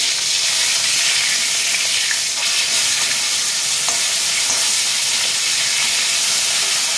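Rohu fish pieces frying hard in hot oil: a loud, continuous hiss and crackle that holds steady for several seconds with small pops scattered through it and no talking.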